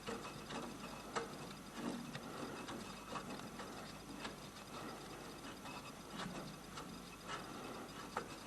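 Faint clicking of a ratchet working on the wheel bolts of a Volvo 850 during a wheel change, soft irregular ticks spread across a quiet background.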